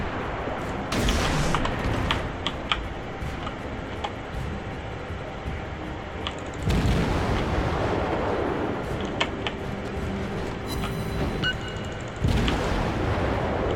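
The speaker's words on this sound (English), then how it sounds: "let's see if we can't launch a surprise attack, a spread of torpedoes here" A spread of torpedoes launched in the video game World of Warships, heard as a dense, rumbling roar of launches and booms with a few sharp surges, loud and continuous throughout.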